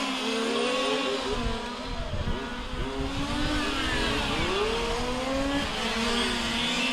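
Several large-scale RC race cars scream down the back straightaway at an IFMAR Large Scale Worlds final, their small engines buzzing and revving with rising and falling pitch, loud and overlapping.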